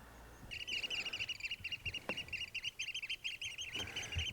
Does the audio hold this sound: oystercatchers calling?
yes